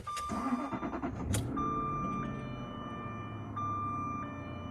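A 2008 Jaguar XJ8 engine cranks and catches, then settles into a smooth idle, with a chime tone sounding on and off nearby.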